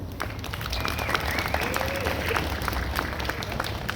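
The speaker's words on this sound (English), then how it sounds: "Give yourselves a round of applause for being here." Crowd at an outdoor ceasefire rally and march applauding, a steady wash of clapping and cheering mixed with voices, moderately loud and continuous throughout.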